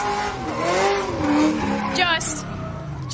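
A drift car at the Goodwood Festival of Speed wall ride skids with a loud, wavering tire squeal over a roaring engine, close by, while a commentator talks over it.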